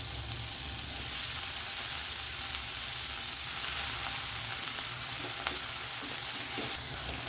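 Brinjal fries in a pan with tomato and tamarind, giving a steady, dense sizzle that crackles evenly throughout with no voices.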